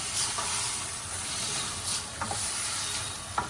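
Potatoes and eggplant fry in a pan with fish, giving a constant soft sizzle and hiss with occasional stirring scrapes, close and even.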